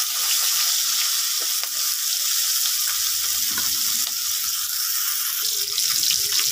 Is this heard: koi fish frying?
yes